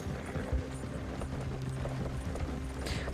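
Horse hooves clip-clopping at a steady walking pace in Red Dead Redemption 2, soft and continuous against a low ambient background, with no talking.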